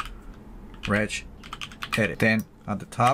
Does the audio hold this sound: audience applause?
no